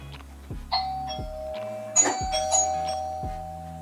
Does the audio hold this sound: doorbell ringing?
yes